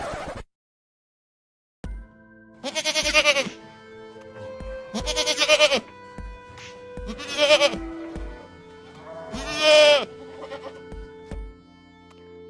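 Goats bleating in a series of loud, drawn-out cries spaced a second or two apart, close by, with rhythmic low knocks and steady hum underneath.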